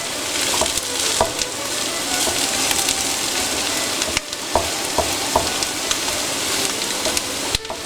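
Mushrooms and onions sizzling loudly in a pan, a dense continuous frying crackle close up, broken by scattered clicks and scrapes of a utensil stirring against the pan.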